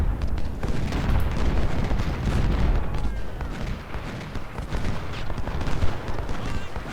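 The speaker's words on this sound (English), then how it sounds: "10 pounders, please shoot at Chalmers." 10-pounder artillery firing in the Civil War strategy game Ultimate General: Civil War, a continuous rumbling barrage of booms and crackling gunfire, loud and dense with no clear gaps.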